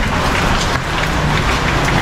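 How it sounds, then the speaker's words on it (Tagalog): Heavy rain pours down hard in a dense, loud, steady roar during a whirlwind storm on the road, with gusts of wind mixed into the downpour. "biglaan po yung ulan na malakas, yung hampas ng hangin at ulan"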